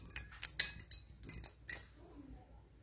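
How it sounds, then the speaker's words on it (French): A utensil scrapes and clinks against a bowl while oil is stirred into seasoning for grilled horse mackerel. The light taps come irregularly and close by, then quieten into softer stirring. "Et là, je fais bien le mélange de mon assaisonnement."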